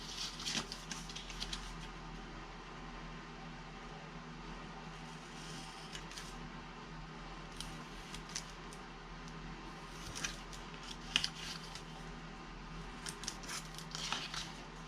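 Scissors cutting scored paper squares for a folded gift box, giving faint, close snips and crisp paper crinkles in irregular bursts over a quiet room.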